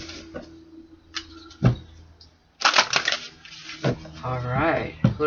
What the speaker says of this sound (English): 2 more shuffles, Spirit.